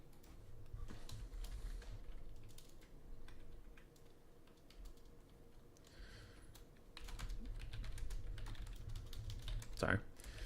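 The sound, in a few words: typing on a computer keyboard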